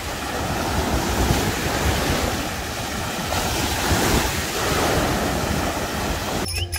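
Strong sea waves pound the shore on a rough day in Turkey, with a loud, continuous wash of surf and wind buffeting the microphone, swelling and easing in slow surges.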